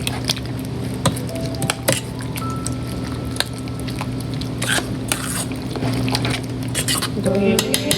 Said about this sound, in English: Just gonna stir it up